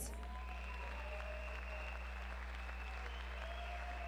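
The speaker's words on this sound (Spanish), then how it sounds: "quiero que le brinden un fuerte aplauso a nuestra Miss Teen World Venezuela 2023, Diana Sánchez" Faint applause from the audience at a Mister Universe Venezuela 2023 final gala, greeting Miss Teen World Venezuela 2023, a thin steady patter beneath a strong low electrical hum, with no voices.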